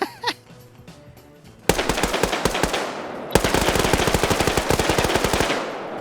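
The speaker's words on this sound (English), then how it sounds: "Why do you keep mag dumping the shit out of him like that?" Automatic rifle fire in the video game Arma 3: a single shot, then two long, loud sustained bursts of rapid shots, close and sharp, with no talking.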